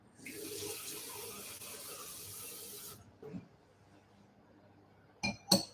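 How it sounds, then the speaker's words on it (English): Tap water pours steadily into a glass in a home kitchen as a soft, continuous hiss for a few seconds, then stops, followed by a few light glassy clinks. "I'm just going to put some water in there."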